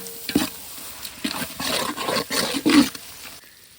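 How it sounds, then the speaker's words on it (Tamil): Food stirred in a cooking pot with chili powder and rock salt, giving repeated scraping strokes in an uneven rhythm over a faint sizzle. "கிண்டு கிண்டு நல்லா கிண்டு"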